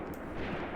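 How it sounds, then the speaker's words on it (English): Incoming gunfire and artillery in the war game Graviteam Tactics, heard as a dense, continuous rumble of close shots and blasts filling the whole short moment without clear gaps. "that incoming fire is not friendly. It's pretty damn close"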